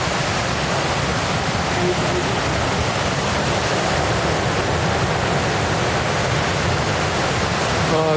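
Beach water gives a steady, loud, broadband wash of surf and moving water that fills the whole stretch without any clear break, and no voices come through over it.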